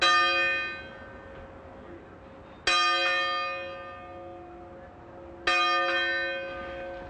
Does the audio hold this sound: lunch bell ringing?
yes